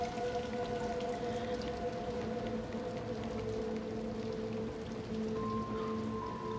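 Steady rain falls in the video game Little Nightmares II, a constant hiss of drops layered with sustained droning musical tones, no voices.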